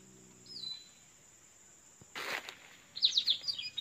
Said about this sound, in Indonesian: Hari ini burung pulingnya terlalu banyak yang datang ini.